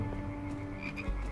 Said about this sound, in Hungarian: az egy undorító béka